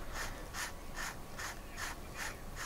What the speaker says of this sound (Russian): Сделаем теперь небольшие потертости. Нам в это поможет губка наждачная.